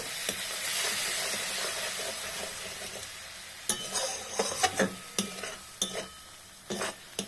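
Duck and chicken masala stir-fried in a little oil, opening with a steady close sizzle that fades as a spatula scrapes and clacks against the pan in quick, irregular strokes.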